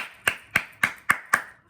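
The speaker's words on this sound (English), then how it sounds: "I'm clapping for you" A single person claps five times at an even, unhurried pace, each clap sharp and close, with short quiet gaps between them.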